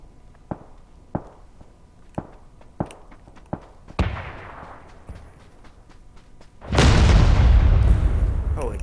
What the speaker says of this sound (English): Must be those mortars.